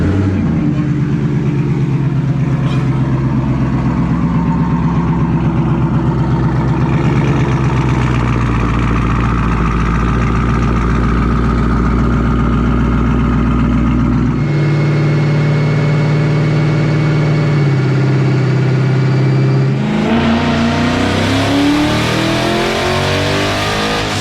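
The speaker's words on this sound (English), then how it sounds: "he is ready to make some little baby pulls on the dyno, so we're gonna get that going" Twin-turbo Ford Mustang S550 on a dyno for pump gas tuning, loud and close, its engine revving up through rising pulls, dropping back, then climbing again to a high scream, with voices talking over it.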